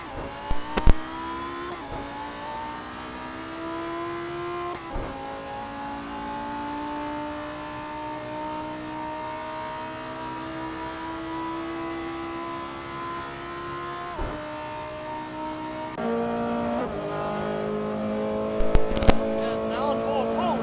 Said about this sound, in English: in the background you will see a Audi fighting BMW